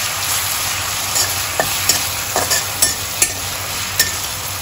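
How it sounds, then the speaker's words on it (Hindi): Chopped tomatoes stirred and fried in a pan for a dry potato sabzi, a steady sizzle broken by sharp scraping clicks of the spoon every half second or so, close and without talk. "अब इसमें डाल देंगे हम कटे हुए अपने टमाटर, और इनको लगातार 2 मिनट चलाएंगे।"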